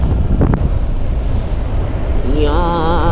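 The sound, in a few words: strong wind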